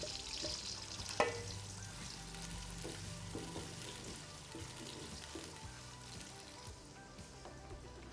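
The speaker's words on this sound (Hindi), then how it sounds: "घी गर्म हो गया, अब हम इसमें प्याज डालेंगे और इनको गोल्डन ब्राउन करेंगे।" Onions sizzle and fry steadily in hot ghee for Sindhi biryani, a continuous crackling hiss with occasional stirring scrapes and one sharper clatter early on, close and even throughout.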